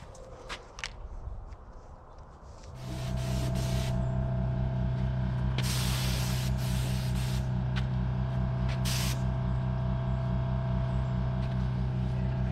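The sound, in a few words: paint spray gun applying a coat on frame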